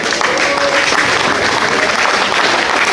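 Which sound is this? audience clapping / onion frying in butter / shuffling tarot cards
audience clapping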